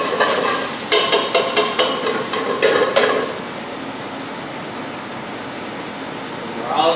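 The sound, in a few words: half an onion sizzling and stirred in a pan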